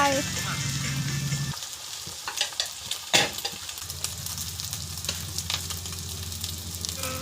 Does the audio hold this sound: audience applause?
no